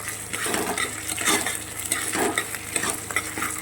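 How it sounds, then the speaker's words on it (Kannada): Ginger garlic paste fries in a pan for a hotel-style vegetable biryani, giving a steady broadband sizzle broken by scraping stirs and occasional clinks of the spoon on metal, close and fairly loud, with no talking. "ಹಸಿ ವಾಸನೆ ಹೋಗೋ ತನಕ ಚೆನ್ನಾಗಿ ಇದನ್ನು ಫ್ರೈ ಮಾಡ್ಕೋಬೇಕು"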